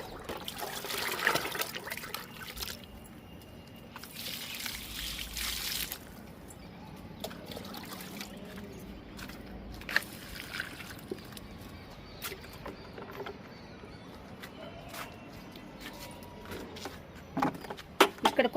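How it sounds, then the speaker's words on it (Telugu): Homemade liquid fertilizer is poured onto adenium plants, a soft trickling splash of liquid nearby in a few short pours with quiet gaps between. "ఎడేనియం మొక్కలకు కూడా ఇద్దాము లిక్విడ్"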